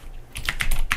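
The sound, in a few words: typing code on a computer keyboard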